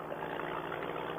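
Paramotor engine with a touchy throttle, running steadily at a constant loud drone with no clear rise or fall and no voices over it.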